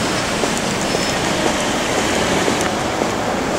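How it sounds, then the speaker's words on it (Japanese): Light rain falls at night on an outdoor walk, a dense, even hiss of drizzle that stays loud and constant throughout, with no voices. "小雨が降ってきちゃって"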